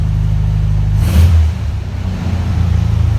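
A classic VW Beetle engine idles with a low rumble, then revs briefly in a single quick surge before dropping back to a steady idle, close and loud.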